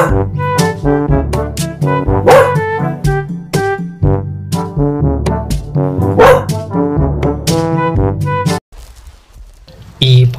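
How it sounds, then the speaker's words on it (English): A dog barks in a children's phonics song, with repeated barks and yips set among the music and sung voices, loud and close, followed by a short quieter pause. "D for dog."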